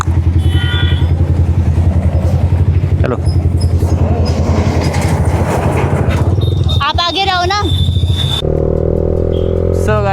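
A motorcycle ridden on a casual Sunday outing, its engine droning loudly and steadily with wind and road rattle, while riders talk over the noise.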